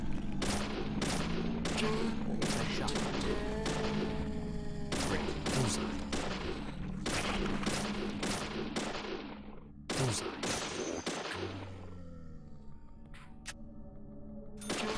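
Rapid bursts of video game gunfire as shadows are shot in a horror game set at a lumber mill, with loud repeated shots followed by ringing tails and a short pause before the volley resumes.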